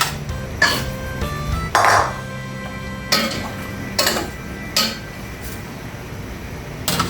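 Papaya pieces dropped into a cooking pot, giving several separate clanks and knocks against the metal, spaced irregularly over a steady background hum.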